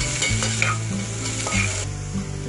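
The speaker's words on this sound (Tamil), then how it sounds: "போட்டு ஒரு 2 நிமிஷத்துக்கு இதை வதக்கிடுங்க." Onions sautéing in a pan for Tamil-style cabbage dal, a steady close sizzle with a few scraping stirs of the spoon, no voices.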